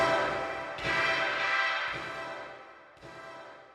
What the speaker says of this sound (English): And then we got different hits sampled from something I got in Alchemy.